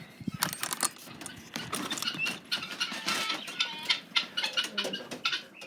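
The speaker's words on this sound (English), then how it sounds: "definitely still some birds in here" Wild birds inside a chicken coop chirp and flutter in quick, irregular bursts, with scratchy pattering and wing noise at moderate, close range and no talking.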